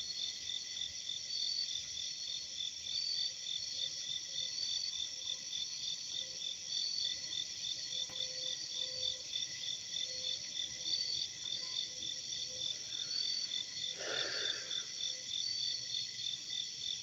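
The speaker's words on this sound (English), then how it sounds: "the crickets are loud out here" Loud, steady chorus of crickets chirping outdoors at night, a dense continuous trill that never lets up, with a brief faint rustle near the end and no talking.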